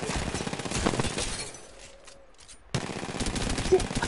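Video game gunfire in a 1v1 match rattles in rapid automatic bursts, cuts off into a short near-silent gap, then resumes just as loud and dense.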